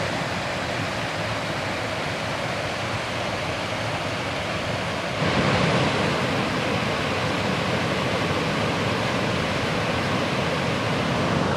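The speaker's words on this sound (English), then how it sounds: "There's another waterfall over here. It's kind of little." A small waterfall at Sheepskin Hollow in East Haddam, Connecticut rushes in a steady, dense roar of falling water that grows slightly louder partway through.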